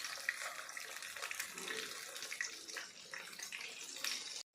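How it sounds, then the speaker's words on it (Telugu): Veg Manchurian balls are dropped into hot oil for deep frying. A dense, steady sizzle of fierce bubbling continues for several seconds and then cuts off abruptly. "దీనిలోనికి మనం రెడీ చేసుకున్న మంచూరియన్ బాల్స్ వేస్తున్నాను."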